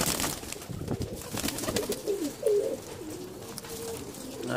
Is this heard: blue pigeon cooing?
yes